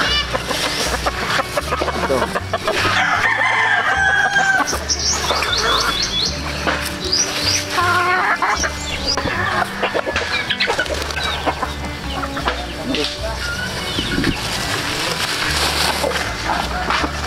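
Backyard pet chickens cluck and chirp busily at feeding time at a new home in Bandol, a dense, continuous mix of fowl calls close by, with a person speaking briefly.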